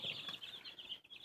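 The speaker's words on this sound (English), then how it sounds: "it's pretty fun to watch chickens" Young chickens cluck softly and scratch at the ground, a faint, high chirping and fussing close by with no voices.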